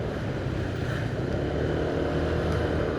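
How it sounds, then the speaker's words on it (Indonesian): A motorcycle being ridden fast on a narrow road, a steady dense roar of engine and rushing wind buffeting the rider's microphone, continuous and loud with no break. "Apakah suara angin, suara motor itu masuk juga ke sini dengan jelas atau sedikit mendingan?"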